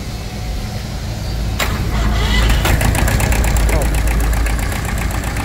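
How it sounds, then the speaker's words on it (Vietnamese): A Kubota L1801 diesel tractor engine cranks and starts, then settles into a loud, rapid, knocking idle that runs steadily to the end. "Rồi đem sẽ nổ máy cho anh em mình nghe ha."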